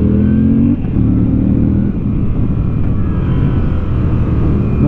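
A Moto Guzzi V7 850 Centenario edition motorcycle being ridden gives a steady, close engine drone with a deep low rumble. The pitch stays fairly even and no one talks.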